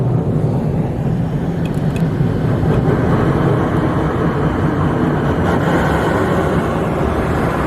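Karcher Opti Wash 8000 automatic car wash in Strasburg, Colorado, heard from inside the car as the wash shakes it: a constant loud rumble of spraying water and machinery with a few brief knocks.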